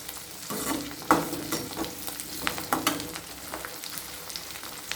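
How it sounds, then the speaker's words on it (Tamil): Garlic sautéing in a pan for an okra tamarind curry, with a steady close sizzle broken by repeated spatula stirs and scrapes, and no voices. "உள்ளியும் அதே போல் நல்லா வதங்கணும் அப்போ தான் அந்த குழம்பு நல்லா இருக்கும்"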